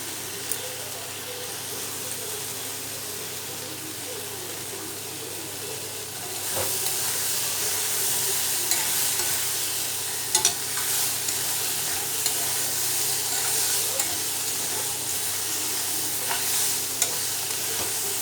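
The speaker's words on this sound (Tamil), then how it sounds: "அடி பிடிக்காமல் கிளறி கொடுக்கணும்" A steady sizzle of food frying in a pan fills the scene, with a spoon scraping and stirring so nothing sticks, growing a little louder partway through, with occasional clicks.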